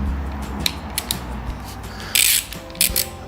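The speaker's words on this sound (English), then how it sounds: "getting that screw out is the important part." Small tool working tiny screws out of a Quad Lock wireless charging mount on a motorcycle RAM mount setup, giving close, faint ratcheting clicks and metallic scrapes, followed by two brighter rattling bursts.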